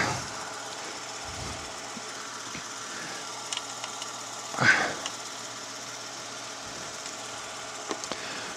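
Jeep, Dodge or RAM engine with a ZF 8HP eight-speed automatic idles steadily during a transmission fluid level check, a low, even hum with a brief louder clunk partway through and faint clicks near the end, no talking.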